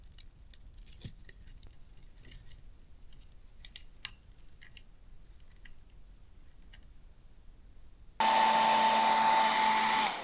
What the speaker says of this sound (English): Again, the hair dryer and tweezers do the job.